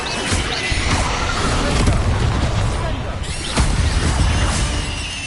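Descendo spell impact in Hogwarts Legacy, a dense rumbling slam of booming, crashing game effects that fills the whole stretch at steady loudness.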